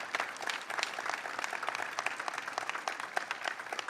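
An audience claps for state legislators at a governor's bill-signing ceremony, a steady wash of applause with sharper individual claps poking through, continuous throughout.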